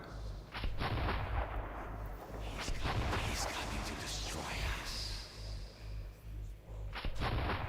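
Gunfire in the video game Metro 2033 Redux, a run of heavy booming shots that keep coming over a constant rumbling backdrop.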